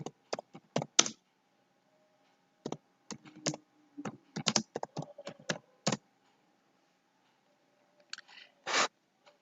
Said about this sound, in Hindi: उसके बाद वहाँ पे टाइप कर देना है सीबीएसई रीजनल ऑफिस लिस्ट